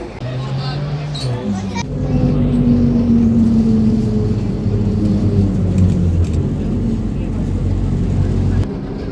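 Interior of a moving number 10 trolleybus in Cherkasy, with a steady electric motor hum and rolling rumble rising in pitch as it accelerates, loud and continuous, while passengers murmur in the background.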